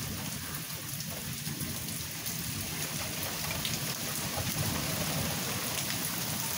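Steady heavy rain pours throughout a thunderstorm, a dense hiss with low, rolling thunder rumbling underneath, continuous and close with no voices.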